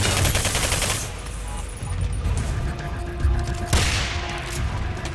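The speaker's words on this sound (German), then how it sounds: "Da kam wieder eine Granate." Explosive bursts and heavy gunfire crash through a firefight in the shooter video game Singularity, a grenade blast among dense, loud rattling with a sharp boom near the end.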